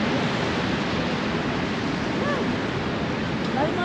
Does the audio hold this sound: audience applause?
no